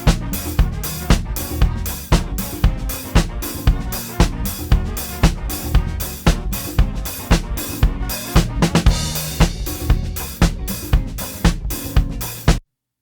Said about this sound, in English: So the drums all together, again, unmixed, sound like this.